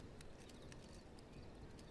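A horse in the video game V Rising trots by, its hooves giving a soft, quick clip-clop over a dense, steady game background for two seconds, faint and without speech.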